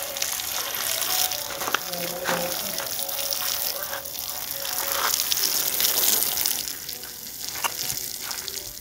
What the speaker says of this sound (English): I think we are at least here drawing water